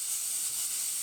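Compressed air blows through a sandblaster unit with no nozzle fitted, a loud, steady broadband hiss that holds constant for the whole second.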